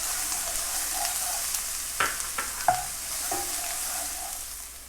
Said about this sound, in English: I'm going to saute that until the onions get nice and soft